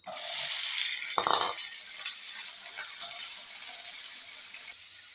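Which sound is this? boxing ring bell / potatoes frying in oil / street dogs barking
potatoes frying in oil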